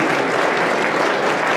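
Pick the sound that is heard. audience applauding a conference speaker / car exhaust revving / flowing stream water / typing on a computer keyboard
audience applauding a conference speaker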